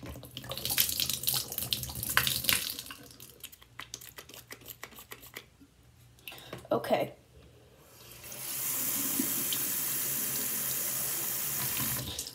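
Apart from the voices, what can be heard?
water running from a tap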